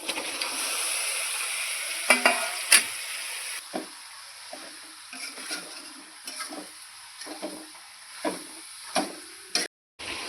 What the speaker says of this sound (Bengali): এখন দিয়ে দেবো আমি চিকেন।